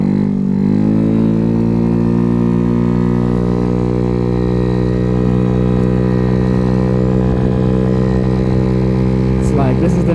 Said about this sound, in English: This thing definitely sounds like a motorcycle.